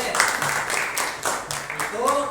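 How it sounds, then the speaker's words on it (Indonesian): Students clapping in a classroom during a lesson, a few uneven bursts of hand claps, fairly close, with speech mixed in near the end. "Ya, tepuk tangan."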